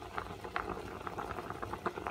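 Water bubbles at a steady rolling boil in a pot of matar pulao, a dense crackling patter with irregular louder pops, close and alone with no voices.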